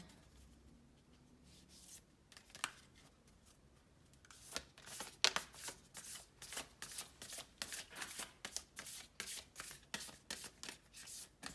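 Tarot cards being shuffled by hand during a reading: quiet rustling at first, then a close, steady run of rapid riffling bursts in an even rhythm, with no talking.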